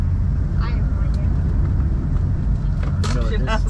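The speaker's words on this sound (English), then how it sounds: "Oh, I get it. Muffler's broken. Oh. It's loud. Muffler's broken." A BMW M series car with a broken muffler rumbles loudly and steadily close by, a deep, continuous exhaust drone, while people talk over it.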